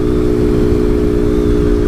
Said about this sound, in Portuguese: tá dando esticadinha na Kawasaki laranja.